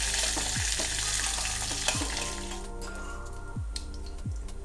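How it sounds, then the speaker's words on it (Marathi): Curry leaves crackle in hot oil for a tempering meant for ground fresh coconut chutney. A loud, busy sizzle carries right up close, with a few sharp pops and spatters and scattered clinks of stirring. "चांगली सरसरीत फोडणी द्यायची"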